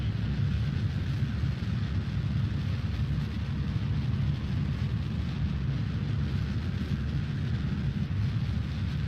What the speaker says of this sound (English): It's the sound of the engines.